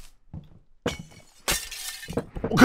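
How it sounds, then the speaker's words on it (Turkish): Glass windows shattering inside the Hello Neighbor video game, two loud bright crashes of breaking panes, the second larger with a scattering tail of debris, after a few dull thuds. "Bir vuruşta iki cam birden kırdım, gördün mü?"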